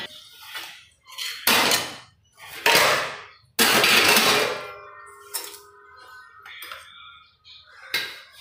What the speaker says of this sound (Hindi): तो बर्तन धो लियो मैं